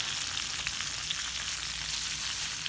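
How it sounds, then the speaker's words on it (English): Broccoli rabe sizzles steadily in hot garlic oil in a pan, a dense, even crackle with small pops, close and alone until it cuts off abruptly. "now I'm gonna put this broccoli rabe in the pan"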